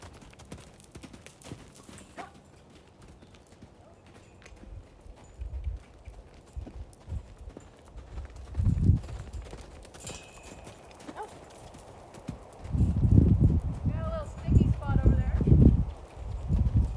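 A horse loping on the ground, its soft hoofbeats growing louder and heavier in rhythmic bursts toward the end, with a brief snort and occasional quiet speech in the background.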